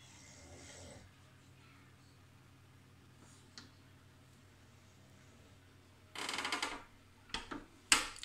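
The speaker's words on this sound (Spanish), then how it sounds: "Ronca como los osos." Low, quiet snoring from a man rumbles in a still room, followed by a few louder rasping snorts near the end.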